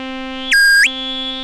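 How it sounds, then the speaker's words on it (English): Neutron synthesizer flux filter with resonance raised just short of self-oscillation: a steady harmonic drone with a brief bright squelchy sweep rising and falling near the middle, loud and alone. "Just before we start to self-oscillate."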